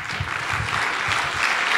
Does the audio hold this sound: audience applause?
yes